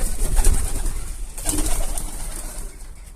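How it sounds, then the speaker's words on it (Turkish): A pigeon coos softly nearby, with a brief flutter of wings, over a steady outdoor background. "Kuş yanıma iniyordu ya"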